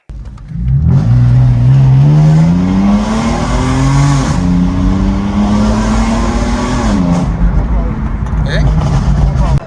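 A BMW M4 with the S55 engine, its tappet cover just replaced to cure a PCV whistle, revs hard on a test drive. The engine note climbs loud and close, dips, then rises again under steady road noise.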